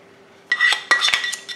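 Metal spoon scraping and tapping in a baking dish while spreading melted butter around, a few close, light clinks and scrapes in two short bursts.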